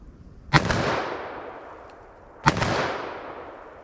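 .44 Magnum revolver fired rapidly at a target outdoors: two loud, sharp gunshots about two seconds apart, each followed by a lingering rolling echo that decays slowly.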